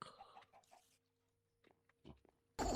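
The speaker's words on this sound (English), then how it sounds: "I heard the chicken jockey" Chicken jockey mob in the Minecraft modpack Sky Factory 4, with brief clucking and animal calls scattered among quieter game sounds, ending in a sudden loud burst.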